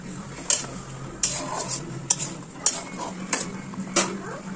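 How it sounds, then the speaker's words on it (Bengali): Utensil stirring eggs in a cooking pan, six sharp metallic scrapes and clinks at roughly even intervals over a low sizzling background, close and alone. "তো আমি এবারে ডিমগুলো দিয়ে দিলাম এর মধ্যে, দিয়ে আমি এটা ভালো করে নাড়বো।"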